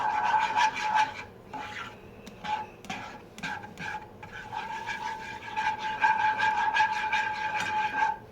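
A spatula scrapes and stirs egg with cheese in a pan while making a simple breakfast, giving a steady rhythmic rubbing and scraping that continues throughout at moderate volume.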